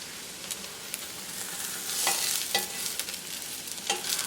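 An egg fries in a pan with a steady broadband sizzle, joined by a few sharp scraping or stirring touches as a utensil works at it.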